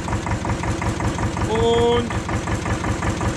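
A farm vehicle engine runs steadily with a rhythmic, throbbing chug while driving home, loud and close; a brief tonal whine rises midway and a voice speaks briefly over it.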